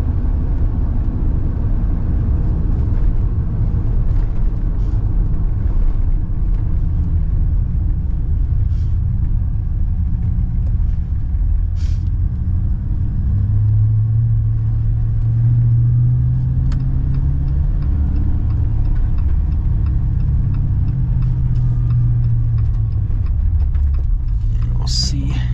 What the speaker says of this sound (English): This is what you want from a V8. Clean, smooth tone.